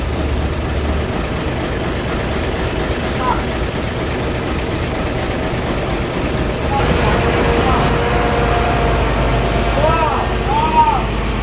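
The front engine of a Sumber Alam Antasena SR3XHD bus rumbles at a steady low idle at a roadside restaurant stop, loud and continuous, with faint voices and background activity around it.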